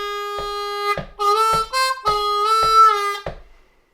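A G harmonica plays a short lick from a song, with a steady run of sustained reedy notes and a bent note partway through. The playing is close and solo, preceded by a few soft clicks.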